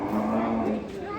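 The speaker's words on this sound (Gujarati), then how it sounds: "જો કેટલી બધી ગાયો છે" A cow at a cow shelter gives a short, low, drawn-out moo close by, with a person's voice mixed in.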